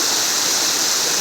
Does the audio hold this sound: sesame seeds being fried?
no